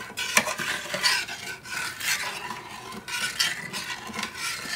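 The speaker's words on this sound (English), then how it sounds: "You can hear it grinding along the bottom with the granules of sugar and salt." A spoon stirs sugar and salt granules in a pot on the stove while making a pickled ginger brine, giving a close, gritty scraping and grinding along the pot bottom in irregular strokes.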